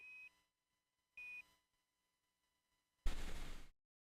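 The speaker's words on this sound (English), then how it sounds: "And the beeps that you're hearing are what are called Quindar tones." Quindar tones on a NASA launch communications loop for an Atlas V carrying the Boeing CST-100 Starliner with crew to the ISS: two short, clean beeps about a second apart, then a brief burst of radio static.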